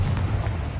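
A Confringo explosive spell blast in Hogwarts Legacy, a short, loud, booming burst with a heavy low rumble that fills the whole moment.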